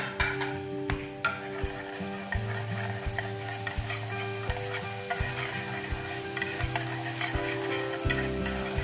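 Minced leeks sizzling steadily in hot oil in a pan, close up, with frequent light scraping and stirring knocks over the continuous frying hiss.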